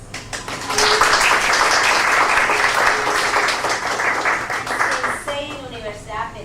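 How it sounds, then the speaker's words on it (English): An audience at an English-teaching talk on writing genres gives a speaker a round of applause: brisk, dense clapping that swells, holds, then tapers as a speaker resumes talking over the fading claps. "I am going to ask you to give her a round of applause"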